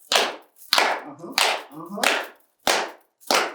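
Six sharp hand claps in a steady pattern at an African drumming workshop, loud and close, with brief gaps and a little room echo between them.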